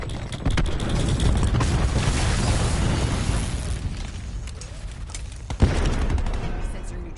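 Cluster grenade explosions in a Call of Duty match, a dense rumbling wash of blasts and crackling bursts that fades, then a sharp bang before the noise swells again, with some talk mixed in.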